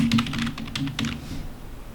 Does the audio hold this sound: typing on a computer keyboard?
yes